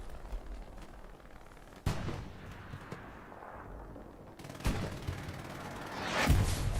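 Friendly artillery fire in the World War II shooter Hell Let Loose, with several heavy booming impacts and blasts, one sharp hit near two seconds and another near five, over rumbling battlefield noise.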